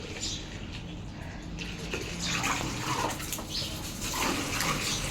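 Water splashing and running steadily across a building floor being washed down, a continuous wet hiss and gush throughout, fairly close, with no clear talk.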